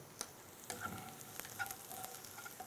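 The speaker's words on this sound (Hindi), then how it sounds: "इसमें हम डालेंगे चॉप्ड अनियंस, इसमें हम डालेंगे थोड़ा सा लहसुन और थोड़ा सा करी लीफ" Chopped onions, garlic and curry leaves sautéing in a pan for South Indian chutney, a soft steady sizzle with small pops and stirring scrapes, quiet and close.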